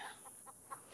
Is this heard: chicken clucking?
yes